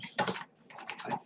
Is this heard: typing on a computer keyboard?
yes